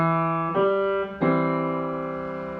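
Two sustained piano notes follow a held opening tone, struck in an uneven dotted eighth and sixteenth rhythm and left ringing as they slowly fade.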